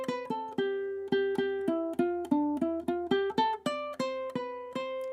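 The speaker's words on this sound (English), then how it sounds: "And now, if I solo a little bit in D Dorian, it might sound something like this." A ukulele plays a quick solo line in D Dorian, a continuous run of crisp plucked notes at a brisk even pace with a faint low hum beneath, close and unaccompanied.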